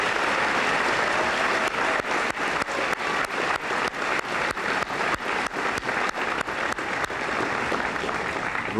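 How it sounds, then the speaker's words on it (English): A high school senior assembly audience at Port Huron High School in 1999 gives loud, sustained applause that fills the room, with dense clapping throughout. "Let's give her a nice round of applause."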